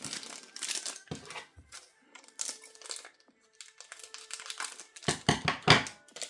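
Crinkly foil packaging of a One Piece card game booster pack is snipped with scissors and crumpled in several bursts, close up, with brief pauses between rustles.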